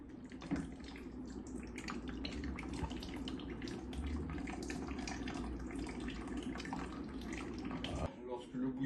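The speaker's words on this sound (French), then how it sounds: "Lorsque le bouillon a fini de couler" Broth pours from a ladle and drains through in a steady liquid trickle and splash, fairly faint and continuous, then stops abruptly near the end.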